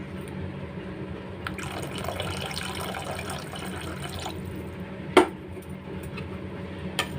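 Extra water pours into a pot of rasam in a steady gurgling stream for a few seconds, followed by a sharp metallic clink and quieter drips.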